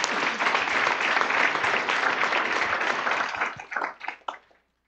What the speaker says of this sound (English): just really an applause to all of you guys for bringing the sports to Las Vegas